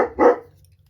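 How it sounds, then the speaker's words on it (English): A single sharp bark from Luca the dog, close and loud, followed by quiet room tone. "Luca, nobody wants to hear you bark."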